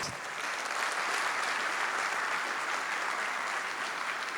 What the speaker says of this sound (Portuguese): Vamos bater uma salva de palmas, Sérgio Queiroz.